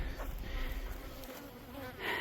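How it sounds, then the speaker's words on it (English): Honeybees buzzing around an insulated beehive, a close, soft droning hum with wavering pitch as individual insects pass by. "All the bees that are in there right now, they would have found their way anyway"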